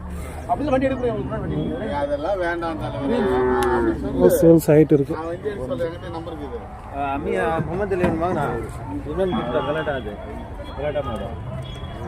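Cattle moo repeatedly at the Kundarapalli cattle market in Krishnagiri district, loud and close, with overlapping calls over crowd chatter and people talking throughout.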